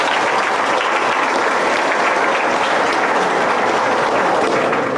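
Sustained applause from an audience at a Nicaraguan government gathering on a culture of peace and dialogue, dense steady clapping filling the room for the whole stretch with no talking over it.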